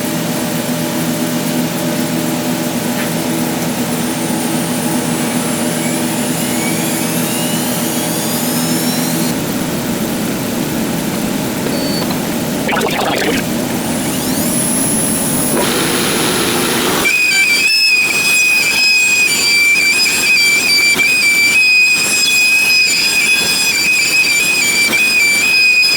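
A CNC router spindle at about 18,500 RPM machining an SG-style guitar body, a high steady whine with shifting pitch sweeps over dust-extraction roar, growing louder and harsher partway through as cutting intensifies.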